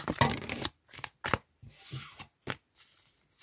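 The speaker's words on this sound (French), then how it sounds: "on va commencer par mélanger le jeu" A deck of oracle cards is shuffled in a few quick, close riffles and slaps, separated by short silent gaps.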